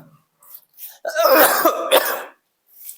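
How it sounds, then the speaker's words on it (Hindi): One harsh, raspy cough rings out close by, with a bit of throat clearing and quiet breaths around it. "खांसी"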